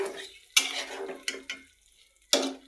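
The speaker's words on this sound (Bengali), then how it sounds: "দেখো আলুগুলো ভালো করে আমি এই মশলার সাথে কষায় নেব" Potatoes stir-fried with spices in a pan give a low sizzle with a few sharp scraping clatters of a spatula against the metal, spaced irregular strokes close up.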